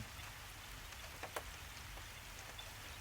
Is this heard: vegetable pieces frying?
no